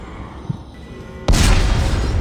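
A loud explosive blast from Dead Space 3 erupts suddenly after a low, quiet game ambience, then holds as a dense, roaring rumble to the end.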